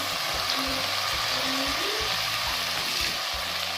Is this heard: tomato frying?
yes